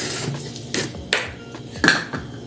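Cookie dough ingredients being mixed in a bowl, with a few scattered clinks and knocks of a utensil against the bowl, close and fairly quiet, with no talking.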